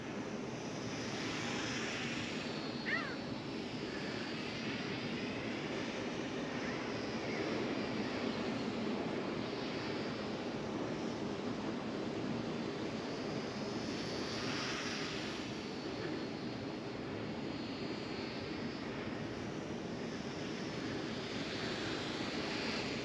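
A small Eachine A6M Zero radio-controlled model plane flies outdoors, its tiny electric motor giving a steady, moderately loud whine that holds evenly throughout with slight swells as it passes, no voices present.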